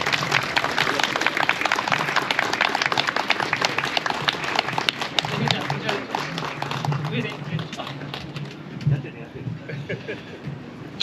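Crowd at an outdoor street rally in front of Miyazakidai station clapping dense and continuous to welcome a party leader, fading into scattered claps with traffic and voices around.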